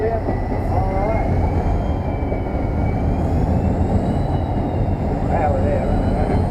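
Class 37 diesel locomotive working under power on the Epping Ongar Railway, heard from the cab as a steady loud rumble and drone with faint whining tones above, continuous throughout.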